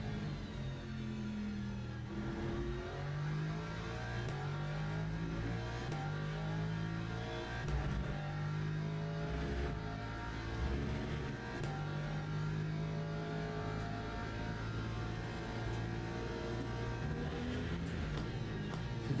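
A race car in the Le Mans Ultimate sim racing game drones steadily for about twenty seconds, its engine rising and falling through revs and gear changes at a constant close level, with no talk.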